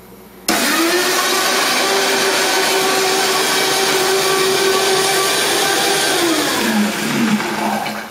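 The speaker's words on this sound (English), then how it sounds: "I took half of this onion here and I put it inside my blender." A kitchen blender chops half an onion, starting abruptly with a loud, steady motor whir that holds for several seconds, then its pitch dips and wavers as the load shifts before the end.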